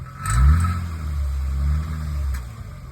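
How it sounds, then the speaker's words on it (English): Infiniti M35x engine revved briefly in a shop, a deep low rumble swelling then holding steady, with faint metallic ticks from a loose exhaust heat shield rattling against the exhaust; no talking. "when you rev it up, this heat shield's rattling around"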